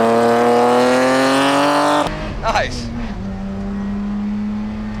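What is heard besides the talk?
1980s BMW 3 series driven on race track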